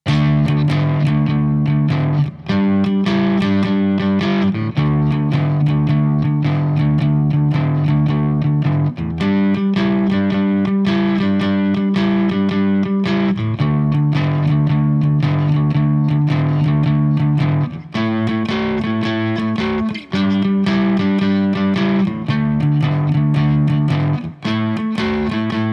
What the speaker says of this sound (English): So if I play the 12-bar blues in D,